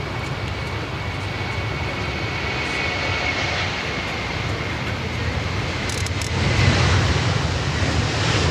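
A Qantas jet airliner rolls past at Sydney Airport, its engine roar a steady broad rumble that swells louder toward the end.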